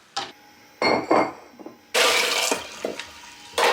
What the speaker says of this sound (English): I'm gonna rinse all my veggies right now